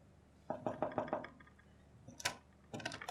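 Knuckles knock repeatedly on a closed door in a domestic drama scene, a quick run of about five close, fairly loud raps, then a short sharp thud and a further burst of knocking after a pause.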